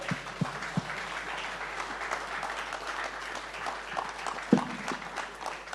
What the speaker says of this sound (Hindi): तालियों से मेरे ख्याल स्वागत किया जाए।